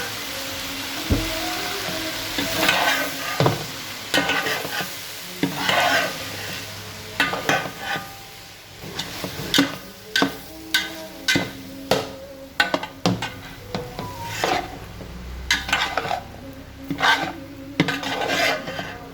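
Rice for Cantonese fried rice stirred in a hot pan over reduced heat, a run of close, rhythmic scraping strokes of a utensil against the pan over a low sizzle, no talking.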